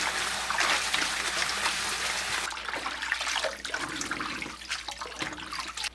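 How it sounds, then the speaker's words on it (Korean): Cold water splashes and sloshes as blanched spinach is swished and rinsed in a bowl, a loud steady rush giving way to choppier, uneven splashing nearby. "찬물에 바로 옮기고 3번 흔들어 가면서 씻어줍니다"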